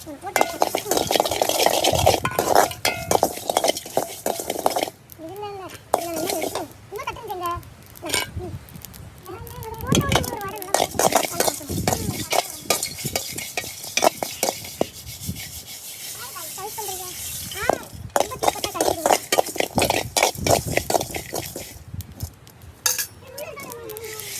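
Whole spices and masala are stirred and scraped in a pan for squid chukka: pepper powder, cumin, fennel, cinnamon and cloves. The rasping strokes are close and repeated, with clinks of the utensil and people talking throughout.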